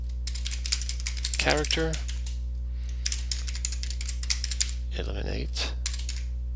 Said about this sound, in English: let's type in our code